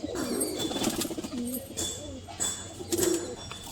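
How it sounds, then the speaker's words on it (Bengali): Breeder pigeons in a loft coo steadily in low, rolling murmurs, several birds overlapping close by with occasional rustling and brief sharper noises. "সব ব্রিডার পায়রা, এগুলো"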